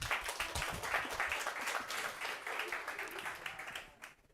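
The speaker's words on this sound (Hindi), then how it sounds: "तो तालियां हो जाए।" Students in a current affairs class on international organizations clap for a few seconds, a fairly quiet burst of scattered hand claps that thins out and fades at the end.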